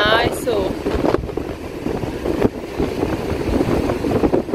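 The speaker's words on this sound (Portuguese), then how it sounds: "Mas tá ventando demais." Strong wind buffets the microphone in loud, gusty rumbles on a beach in Guarujá, Brazil, with a few brief bursts of other noise over the roaring gusts.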